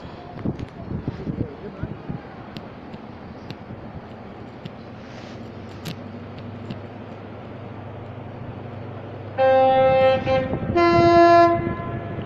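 An HST passenger train approaches slowly at Doncaster station, rumbling at a distance before its two-tone horn blasts loudly twice near the end, with someone talking faintly.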